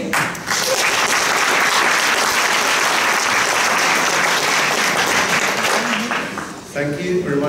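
A conference audience gives sustained applause for a keynote speaker, a dense wash of clapping hands filling the room for several seconds before fading, with a voice briefly speaking near the end.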